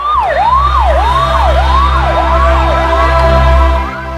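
An ambulance siren wails close and loud, its pitch sweeping repeatedly in a fast up-and-down cycle over a low engine rumble, fading slightly at the end.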